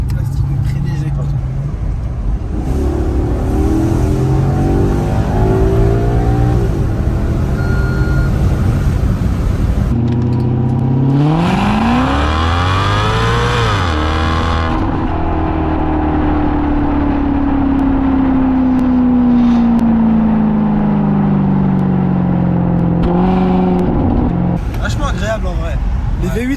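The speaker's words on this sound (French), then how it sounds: "Les V8 atmosphériques, c'est toujours comme ça. C'est toujours archi agréable à entendre" Maserati GranTurismo with a naturally aspirated V8, engine droning from inside while driving, rising in pitch under acceleration then settling into a steady cruise hum, with people talking over it throughout.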